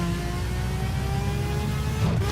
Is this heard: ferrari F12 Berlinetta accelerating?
yes